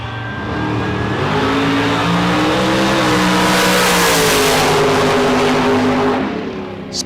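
Drag cars launch at a bracket race at the K&N Spring Fling Million, giving a loud, sustained roar with rising engine pitch that holds for several seconds before fading slightly at the end.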